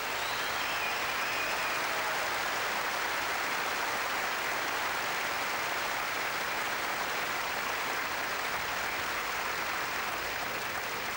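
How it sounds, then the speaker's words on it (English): Sustained applause from the audience fills a snooker hall at the 1984 Coral UK final after an Alex Higgins clearance, a steady dense wash of clapping with no break. "Tremendous applause down there in the hall as Alex Higgins takes the score to 6-9"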